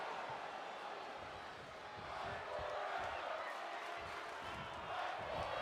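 A large wrestling arena crowd cheers and roars in a steady, loud wash, with a commentator talking over it.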